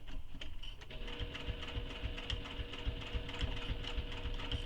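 Sewing machine running steadily while stitching a tote bag, a continuous rhythmic mechanical ticking and whirring that holds close and even throughout with no talking.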